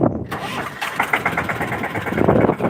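A tractor engine cranks and catches, then runs with a rough, throbbing idle close by, voices faintly present.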